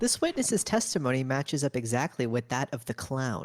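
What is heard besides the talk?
None of the usual background noises is heard.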